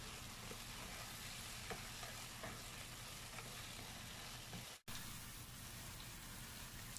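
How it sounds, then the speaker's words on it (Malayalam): Dried lemon, bay leaves, cinnamon, cloves and cardamom sizzle steadily in hot fat in a pan for Arabic salona rice, a faint close crackle with light stirring and one brief break, no voices. "ഇതെല്ലാം കൂടി ഇട്ടിട്ട് നന്നായിട്ടൊന്ന് ഇളക്കിയെടുക്കാം"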